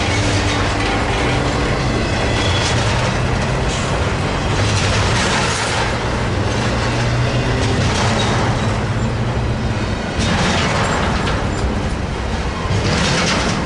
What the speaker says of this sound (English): Z train it is.